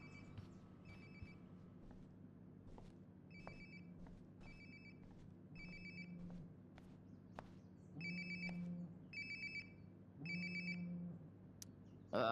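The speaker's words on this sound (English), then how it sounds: "Sounds like my phone is definitely nearby." A cell phone rings repeatedly nearby in the video game Life is Strange: Before the Storm, its bright electronic ringtone sounding in regular bursts over a low ambient game hum, with soft footsteps between the rings.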